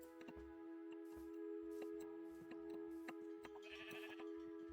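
A sheep bleats in Minecraft, several short repeated bleats over steady game music with tonal drones and chiming notes, fairly close and clear with no talking.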